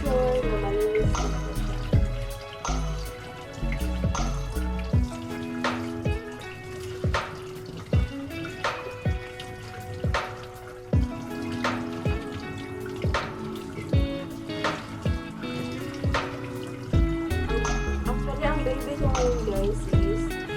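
Water splashes and drips as picked moringa (malunggay) leaves are rinsed by hand in a basin, irregular sloshes and trickles close up over steady background music.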